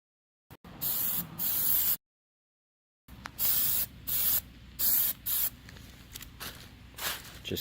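Aerosol spray paint hissing onto grills in a light first coat, a series of separate bursts of steady spraying with short pauses between, up close and fairly loud.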